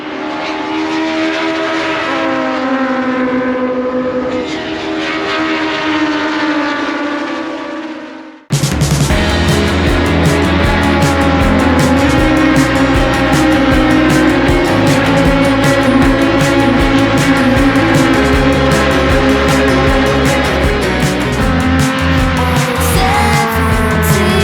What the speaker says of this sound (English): 125 brake horsepower, 1200cc Yamaha engines, and these things are so loud, so quick.